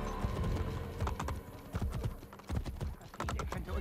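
Rapid, rhythmic hoofbeats of a galloping horse in Assassin's Creed Brotherhood, loud and close, with a game-style clattering quality and no talking.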